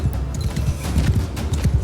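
Horse hooves clip-clop in a rapid galloping rhythm in a medieval battle within Mount & Blade II: Bannerlord, steady and fairly loud over a busy low rumble of combat.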